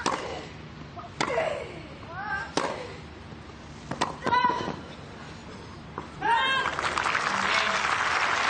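On the grass at the 2019 Nottingham final, a tennis crowd breaks into broad, steady applause after Caroline Garcia holds serve, following a few sharp ball strikes and scattered voices; the clapping swells loudly over the last two seconds.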